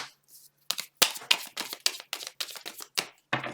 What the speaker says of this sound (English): Just want to get a good shuffle here for you.